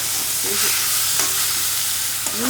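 Dry ginger, black pepper and tomato sauté in a hot pan for a spice gravy, giving a steady bright sizzle with a few soft stirring scrapes and light clinks, close and continuous with no talk.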